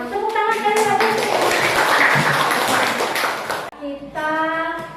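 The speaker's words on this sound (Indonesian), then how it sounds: "Tepuk tangan dari tadi." A classroom of students gives a sustained burst of hand clapping, loud and dense, while a woman teacher's voice is heard before and after over the applause.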